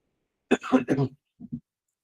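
A person clears their throat and coughs a few times in a quiet room, with two softer coughs trailing after a short pause.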